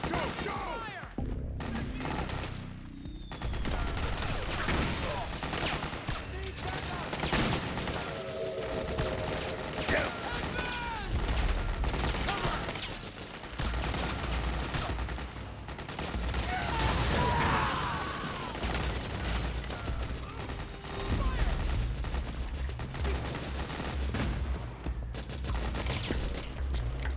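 Continuous gunfire in Metal Gear Solid 4, with dense bursts and rattling automatic fire layered with crashes and shouting voices throughout.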